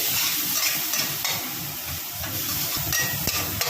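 Spice paste with powdered spices and a little water is stirred and fried in a pan, giving a steady close sizzle with scraping strokes of the spoon throughout.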